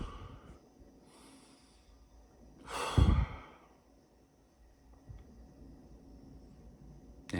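A deep breath drawn in and let out in one long, close sigh-like exhale midway through a quiet stretch, with softer breathing around it and no talking.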